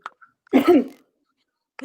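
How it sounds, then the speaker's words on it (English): A single harsh cough burst, close and fairly loud, with brief faint sounds before it and another starting at the very end. "Now coughing."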